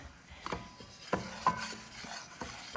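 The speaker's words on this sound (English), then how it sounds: "Keep stirring it." Spoon scraping and stirring a browning roux in a pot on the stove, a series of soft irregular scrapes and taps, close and quiet, with no talking.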